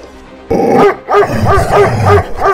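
A house dog barks loudly and close by, giving a run of repeated barks with short gaps between them.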